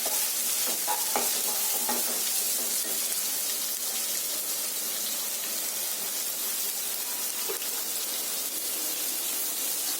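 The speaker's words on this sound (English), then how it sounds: "Now add in the sliced onions." Steady, loud sizzling of onions frying in a hot pan, with occasional stirring scrapes, continuous throughout with no talking.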